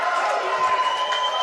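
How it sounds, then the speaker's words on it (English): Crowd at a local Raymond Terrace vs East Maitland pennant match letting out a loud, sustained shout, a dense wash of many voices close and continuous, with no single speaker standing out. "Big shout from the crowd."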